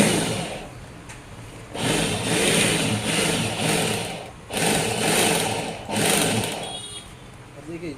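An electric sack-stitching sewing machine runs in loud bursts while closing a sack, its motor whirring and buzzing in several cycles with short pauses between, close to the microphone.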